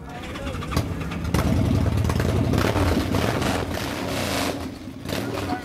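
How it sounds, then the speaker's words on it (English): An Excelsior Henderson motorcycle at Daytona Bike Week starts up with a sudden catch, then settles into a loud, close, rumbling idle with uneven throttle blips, a voice briefly heard underneath. "So, can I find out how good this motorcycle sounds? In other words, can I start it?"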